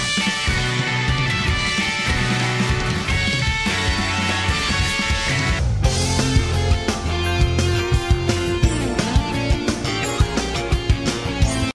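Dense electronic, techno-styled music from the Final Fantasy XIII-2 soundtrack plays loud and continuous, with steady beats and layered synths and no talking.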